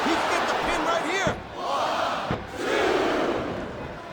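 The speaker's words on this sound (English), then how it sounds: "It sounds like this capacity crowd has something on their minds" A capacity arena crowd chants and roars during a wrestling match in WWE SmackDown vs Raw 2007, loud rhythmic crowd noise with two brief sharp slams cutting through.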